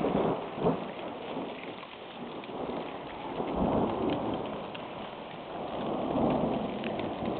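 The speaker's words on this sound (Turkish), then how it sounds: "Aylardır Türkiye'nin beklediği yağmur yağmak için bizim piknik günümüzü buldu." Rain pouring steadily on an outdoor picnic in Turkey while thunder rumbles in repeated swells, a dense constant hiss of drops with deep rolling peaks, no voices heard.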